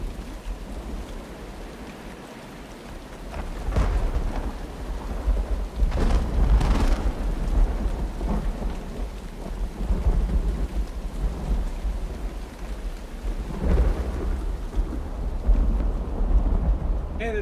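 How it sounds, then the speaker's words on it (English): Rain with rolling thunder in the game URU, a steady downpour hiss broken by several deep rumbles that swell and fade, loud and close throughout with no talking. "it doesn't start raining or stay raining very long"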